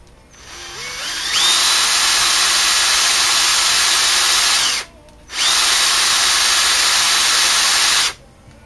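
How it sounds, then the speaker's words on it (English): A battery-powered drill spins the manual starter shaft of a Merlin aero engine, giving a loud, close, steady whine in two long runs of about three seconds each, separated by a brief pause. "The first is a manual shaft here that's intended for a battery-powered drill."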